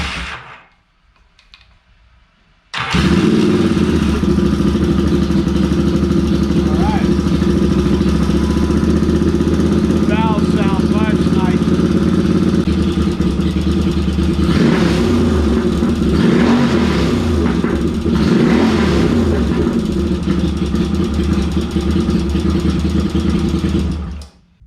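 A Yamaha XS650 motorcycle engine with freshly adjusted valves cranks and catches after a short quiet start, then runs loud and close at a steady idle with a few throttle blips, continuing to the end with no talking.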